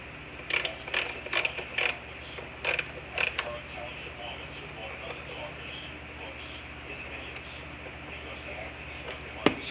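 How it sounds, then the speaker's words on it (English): Fasteners are removed from a Husqvarna leaf blower, producing a quick run of sharp, close ratcheting creaks from a screwdriver in the first few seconds, followed by a steady low background hum. "Taking out all the fasteners."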